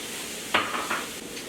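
Minced garlic hits a hot pan in a seafood mac and cheese dish, giving a short burst of sizzling followed by a couple of quick stirring scrapes, close and fairly quiet.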